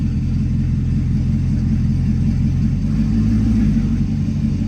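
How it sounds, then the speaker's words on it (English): A rebuilt Corvette engine runs nearby with a loud, steady low rumble and a slight lift in pitch partway through, holding an even level without sharp revving peaks. "Rev it."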